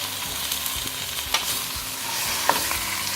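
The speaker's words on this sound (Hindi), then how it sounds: "इसको अच्छे से मिक्स करेंगे अब" Partly frozen chicken for biryani stirred and fried in a pot, a constant soft sizzle with scattered scraping and a couple of sharp metallic taps of the spoon, close and moderately loud, no talking.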